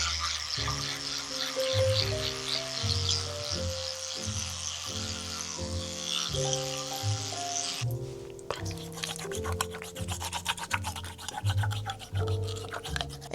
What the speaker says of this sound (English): Make sure you invest in an electric toothbrush.